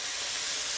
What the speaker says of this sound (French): On flambe pour évaporer tout l'alcool et pour ne garder que les sucres et l'arôme.